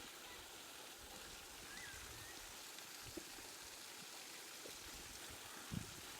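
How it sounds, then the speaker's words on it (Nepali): Water runs steadily from a spring spout, a faint, even wash of flowing and splashing water heard from a little distance, with no talking. "यो मुक्तिनाथको जस्तो भाइब्स दिने खालको धारा छ"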